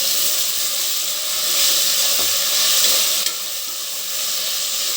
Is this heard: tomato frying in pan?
yes